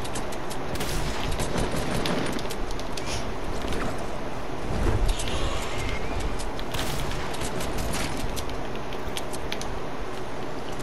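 Rapid gunfire from a multiplayer shooter video game, sustained bursts filling the scene with dense, loud crackling shots and a heavier blast midway, with no talk over it.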